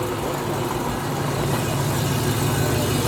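V8 car engine running at a Cars & Coffee meet in Bad Liebenzell's Kurpark, a steady low idling rumble that stays loud and constant throughout, with faint background voices.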